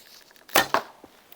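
A carbon recurve crab bow loosed with a lightweight arrow, giving a sharp string snap followed by a quick second thud, close and alone, with faint ticks after.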